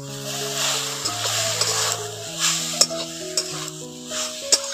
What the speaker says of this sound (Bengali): এখন গরম কড়ার মধ্যে নারকেল কুড়োটা দিয়ে দিচ্ছি।